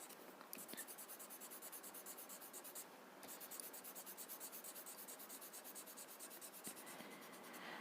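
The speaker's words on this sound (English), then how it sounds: "Make use of different blending stubs to blend different shades." Blending stub rubbed on paper to smear graphite shading, a soft, close, rhythmic scratchy swishing in quick repeated strokes that pauses briefly once partway through.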